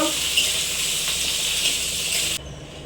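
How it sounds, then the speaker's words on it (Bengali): Potatoes hit hot white oil in a wok, producing a loud, dense, continuous hiss of frying that cuts off abruptly near the end, with no voices. "তেলটা গরম হয়ে গেছে আলুগুলো দিয়ে দেবো"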